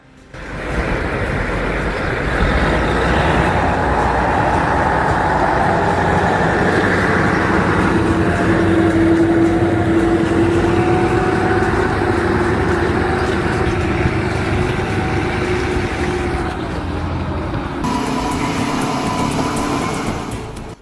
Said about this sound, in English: The tires spin, the engine roars, but the machine refuses to move